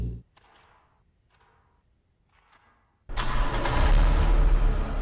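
In the horror game Inunaki Tunnel, a car engine turns over after a few quiet seconds of faint ambience, catching abruptly and settling into a loud, rumbling idle that holds to the end.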